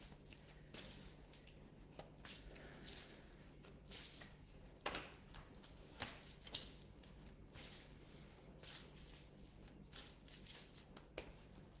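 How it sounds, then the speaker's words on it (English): Tarot cards being shuffled by hand, soft irregular riffles and flicks of the deck close by and quiet, with small taps and pauses over a faint steady hum. "Okay, I just shuffle to it."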